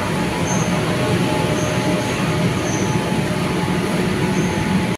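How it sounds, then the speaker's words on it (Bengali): A Kolkata metro train runs, heard from inside the last compartment, with a loud, steady rumble of wheels and car noise and faint high squeals throughout, no voices. "এবার আমরা মেট্রোয় উঠে গেছি, আর উঠে একদম লাস্ট কম্পার্টমেন্টে চলে এসেছি।"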